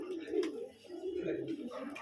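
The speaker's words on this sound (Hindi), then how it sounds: "आप देख ही रहे होंगे कबूतर आ रहे जा रहे हैं" Pigeons coo in soft, throaty, rolling calls that overlap almost without a break. The birds are fairly close, with faint background noise under them.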